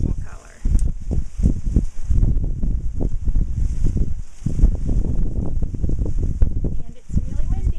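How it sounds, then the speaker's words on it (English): Strong wind buffets the microphone in a garden where scarlet runner beans are being harvested, producing loud, gusty rumbling bursts that come and go throughout, with someone talking intermittently underneath. "And it's really windy today."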